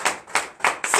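A church congregation at a Beninese morning prayer service claps in acclamation, four quick loud claps in an even rhythm, close and alone without voices.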